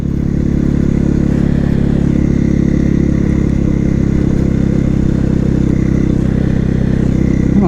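A big 450 supermoto motorcycle engine while riding, a loud, steady, close thrum with a low throbbing rumble and little change in pitch, no voices.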